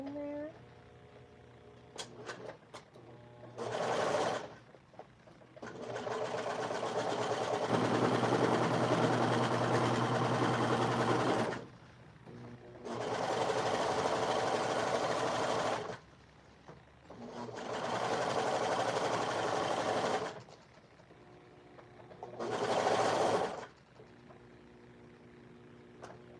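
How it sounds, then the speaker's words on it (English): A serger overlock machine sews a collar seam in several bursts of fast, steady whirring, one long run and a few shorter ones, separated by quieter pauses, close by. "now that inner part of the collar, we are going to serge her with a nice pretty seam there"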